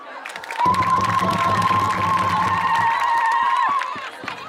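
A crowd of supporters cheers at an evening political rally in Néma, Mauritania, with loud, sustained shouting and a long, steady whistle-like tone carrying over the noise before it dies away.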